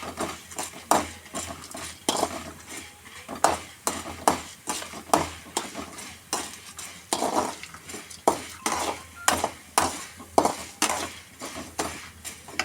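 Chammanthi podi ingredients fry in a pan, stirred quickly and rhythmically so a spoon scrapes and knocks the metal in a steady run of clattering strokes over a faint sizzle, close up with no speech.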